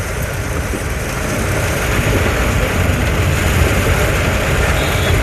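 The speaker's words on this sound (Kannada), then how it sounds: "ರೋಡೇ ಕಾಣಿಸ್ತಾ ಇಲ್ಲ ಮಳೆಗೆ" Heavy rain pounding while driving in a car on the road toward Hosakote, with a dense, steady roar of downpour and road noise filling the whole stretch, loud and continuous without talk.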